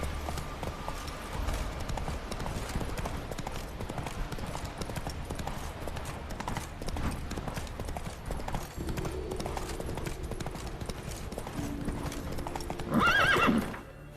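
Roach, Geralt's horse in The Witcher 3, gallops with steady rapid clip-clop hoofbeats over game ambience and music, then gives a loud neigh near the end.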